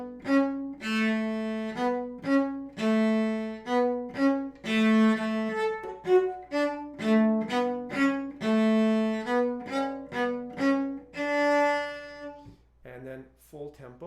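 Solo cello bowed at a moderate tempo, a legato line of sustained, singing notes moving stepwise with smooth bow changes, close and clear, followed by a brief spoken voice at the end.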